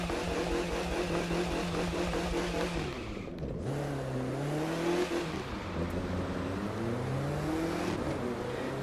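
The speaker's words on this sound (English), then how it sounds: "The overall sound of the vehicles is very good and relatively immersive" A car engine in the racing game The Crew 2 revs through rising and falling gears while driving, a continuous loud drone with pitch sweeps and a brief dip mid-way.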